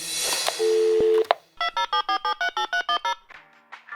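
A steady tone is followed by a rapid series of about a dozen short electronic telephone ring pulses, loud and close, with no voices.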